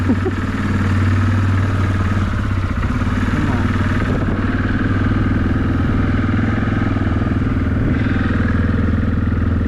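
A Kodiak ATV engine runs on choke nearby, a loud, steady, rumbling idle with a slightly uneven clattery chug throughout.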